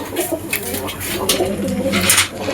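Giribaj pigeons coo repeatedly at a farm at night, a steady layered murmur of soft calls filling the space with a few brighter rustles over the top.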